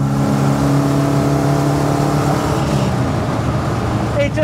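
A 1972 BMW 2002 historic race car engine runs loudly and close by, a steady harmonic drone that roughens and shifts in pitch toward the end as the revs change.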